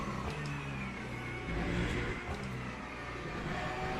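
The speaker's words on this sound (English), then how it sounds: "Oh, LMP2's coming." LMP2 prototype race car in the Le Mans Ultimate racing game at the 6 Hours of Le Mans, its engine droning steadily with shifting pitch, blended with the player's own car noise at a moderate level.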